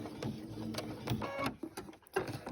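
A sewing machine with an open toe foot stitches binding onto the front of a quilt, running in a steady, quiet mechanical rhythm with small bursts and pauses.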